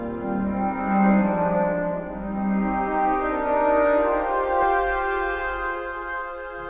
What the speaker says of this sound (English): As I pull the mod wheel down, you hear those strings still ringing out.